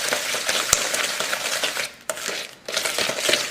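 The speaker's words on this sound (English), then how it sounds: "Just beat 1 egg at a time. Just give it a good whirl." Eggs are whisked into a Halloween-themed pound cake batter, a steady wet scraping and swishing in a bowl, close and continuous, with a brief pause near the middle before the beating resumes.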